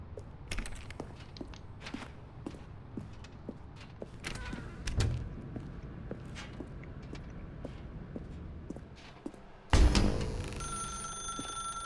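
Telephone ringing in the video game The Stanley Parable: faint footsteps and clicks lead up to a sudden, loud, sustained bright ring near the end.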